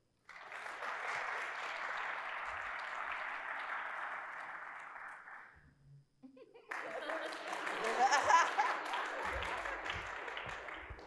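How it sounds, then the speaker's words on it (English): Audience applause at a Columbus Metropolitan Club forum as a host walks up to the podium, a broad sustained wash of clapping that dips briefly, then swells again louder. "You're supposed to clap until I get up here."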